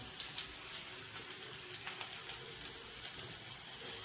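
Eggplant slices, vangyachi kapa, sizzling in hot oil in a pan as they are laid in one by one; a steady, fairly quiet hiss and crackle runs throughout with no talking.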